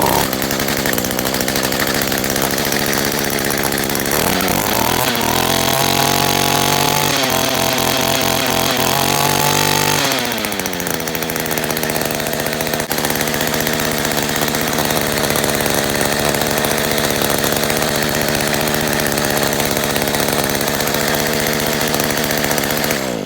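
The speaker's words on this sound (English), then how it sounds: "Now turn your choke off and start it without any throttle." An Echo string trimmer's small two-stroke engine runs steadily and loud throughout, revving higher for a few seconds before dropping back to a lower buzzing idle.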